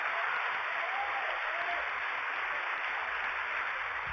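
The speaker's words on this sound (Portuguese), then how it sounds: "Agora você pode aplaudir o Senhor porque Ele merece." A church congregation applauds during a service, a steady wash of many hands clapping at an even level throughout, with no voices on top.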